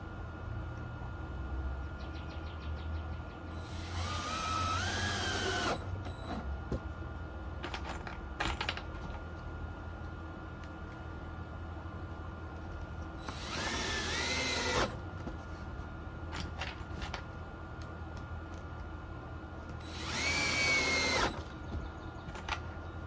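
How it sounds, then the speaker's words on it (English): A power drill driving large screws into a homemade wooden chip-in golf game, three separate whirring bursts of a few seconds each over a quiet shop background, with scattered small clicks and knocks between them. "let's screw these into place. Get some bigger screws here."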